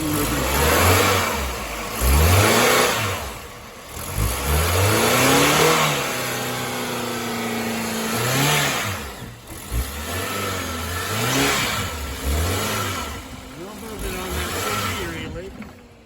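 A car engine revs hard under acceleration in repeated surges, pitch sweeping up and dropping back between bursts, close and loud, with the engine rocking on its mounts, worn control arm noted, and brief low talk in places.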